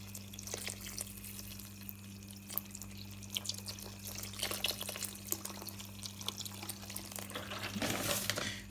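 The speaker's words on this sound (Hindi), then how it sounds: "हम ये इसमें डालेंगे, इतना डालेंगे कि ये फूल बिल्कुल भीग जाएं।" Liquid is poured over a batch of dried mahua flowers to soak them, making a faint, steady trickle and splash with a few sharper drips over a constant low electrical hum.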